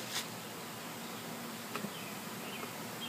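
Honey bees hum around a hive being set up, a dense, steady buzz close by with a few louder passing bees.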